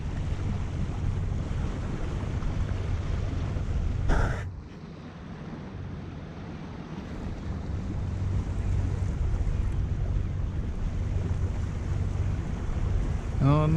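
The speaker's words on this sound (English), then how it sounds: "we're just going to continue motoring" A Bavaria 41 sailboat motors along under engine power with a low steady engine drone beneath wind rush and water noise on the hull, carrying on for over ten seconds with a brief gust-like thump partway through.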